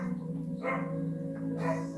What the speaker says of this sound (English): That's not my dog, that's the dog outside.